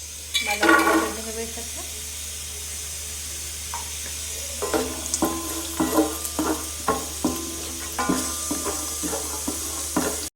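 Hot ghee crackles and sizzles steadily as nuts fry with bay leaves, cinnamon and cardamom, while a utensil stirs and scrapes the pan in a loose rhythm, close by.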